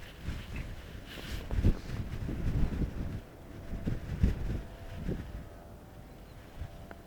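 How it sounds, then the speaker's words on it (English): Wind buffets a microphone outdoors in gusty bursts, low thumping rumbles that rise and fall irregularly, fairly faint overall. "A bit windy today."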